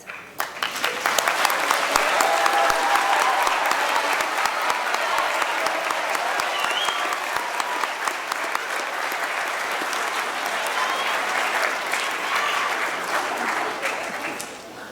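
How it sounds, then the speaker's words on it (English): Sustained applause from an awards ceremony audience recognizing students for service, a broad, even wash of many hands clapping that builds quickly and holds steady throughout. "Please stand to be recognized with our applause."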